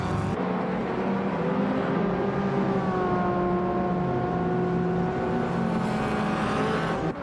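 Race car engines scream at high revs in a racing video game, a sustained loud whine that sweeps and shifts in pitch as the cars jostle for position and overtake, with no talking.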